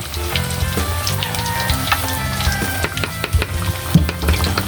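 Food fries in hot oil with a loud, crackling sizzle close up. Sharp pops and spatters break through the steady hiss, with light knocks of a utensil now and then.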